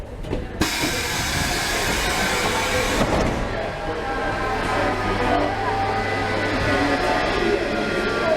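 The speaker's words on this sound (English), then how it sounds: "And here is our train." A Budapest metro train rumbling and hissing steadily as it pulls in, a long continuous roar with a brief sharp onset, close and loud.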